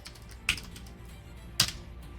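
Typing a shell command on a computer keyboard produces two distinct, crisp key clicks about a second apart. They are close and fairly quiet over a low background hum.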